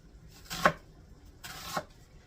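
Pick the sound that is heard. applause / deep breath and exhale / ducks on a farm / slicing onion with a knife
slicing onion with a knife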